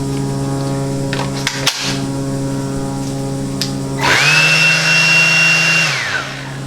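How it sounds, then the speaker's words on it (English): A Craftsman power sander hums at a steady pitch, then winds up louder and higher for about two seconds and spins down again. There are a few sharp knocks early on and no talk. "So, see how this sander does."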